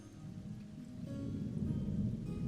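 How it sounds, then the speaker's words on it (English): Steady rain outside during a heavy storm, a soft continuous wash of falling water that swells slightly louder partway through, with no voices over it. "this is turning out to be quite a bad storm, isn't it?"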